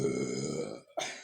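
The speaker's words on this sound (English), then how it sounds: "I burp a lot." A single long, deep burp close to the microphone, about a second long, ending with a short breathy sound.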